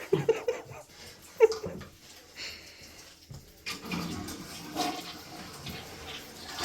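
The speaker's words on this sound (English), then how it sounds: "And I flush it, and then I just kind of get clean water" A household toilet flushes during a bathroom cleaning, with rushing, gurgling water nearby and fairly quiet, followed by a steady draining swirl.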